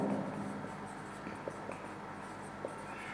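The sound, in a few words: writing out a math solution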